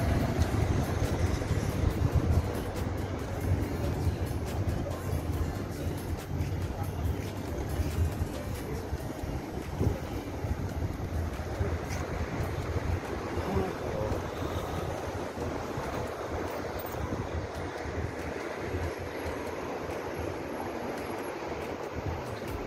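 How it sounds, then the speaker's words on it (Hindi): Hot wind blows outdoors in Dubai, buffeting the microphone with loud, gusty rumble and broad hiss that ease slightly after the first few seconds and continue steadily. "गर्म हवा चल रही है।"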